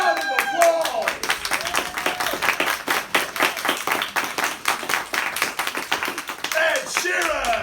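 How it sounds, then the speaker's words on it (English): An audience applauding a guest introduced as Ed Sheeran, a dense run of rapid claps with whoops and excited voices on top. "Ladies and gentlemen, give him a round of applause."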